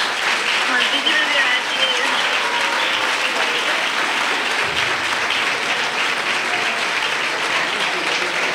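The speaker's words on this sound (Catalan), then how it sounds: "I has vist que tots aquests aplaudiments són per a tu." Sustained applause from a crowd at a Falles election ceremony honouring the newly chosen fallera major of Sueca, steady clapping filling the hall throughout with faint voices underneath.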